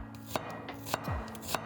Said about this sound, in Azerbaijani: Soğanlarımızı yuduqdan sonra indi bunların doğranma mərhələsinə gəlirik.